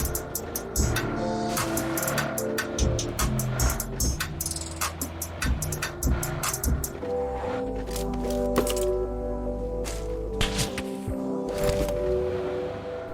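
A car drives in PUBG Mobile with a continuous low engine drone and a loud, dense game mix, punctuated by many sharp cracks and clicks.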